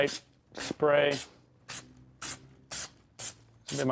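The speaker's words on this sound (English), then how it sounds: "I'm just going to do one light spray." Short hissing spray bursts come in quick succession while upholstering the front columns of a Ford Transit van, close and fairly quiet, with brief bits of voice between them.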